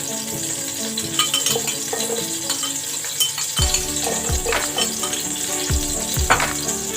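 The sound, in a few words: garlic sautéing in butter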